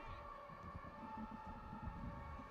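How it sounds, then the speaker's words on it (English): Distant sirens at a cricket ground during a T10 finals day in Croatia, a steady sustained wail holding across the clip beneath low crowd and ambient rumble, faint and far off rather than close. "Well, there's the sirens. They're coming for someone."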